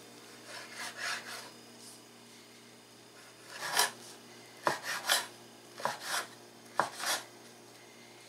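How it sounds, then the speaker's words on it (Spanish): A knife slices red cabbage into thin pieces on a cutting board while making pickled red cabbage, giving a series of close, crisp cutting strokes in irregular bursts with a quieter rubbing start and no talk. "los vamos a cortar así en rebanadas. También este, delgaditas."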